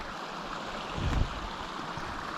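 The water of Gunnerside Gill rushes in a steady outdoor wash, with a brief louder splash or gust near the middle and no talk.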